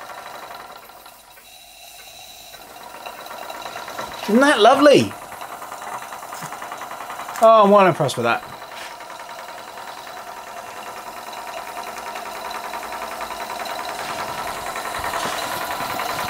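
A large scratch-built oscillating model steam engine runs on live steam with a slight steam leak, giving a steady mechanical chuffing and rattle close up, with two brief louder bursts while someone talks over it.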